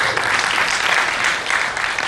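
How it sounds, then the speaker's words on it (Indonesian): Steady audience applause at an evening indoor gathering, dense clapping from many hands filling the whole short stretch without a break. "Oke, kita beri tepuk tangan untuk Pak Koko"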